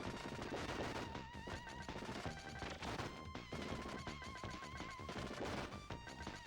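Homing missiles fire in Contra: Hard Corps in a dense, loud barrage of rapid shots and impacts layered over energetic game music, running continuously.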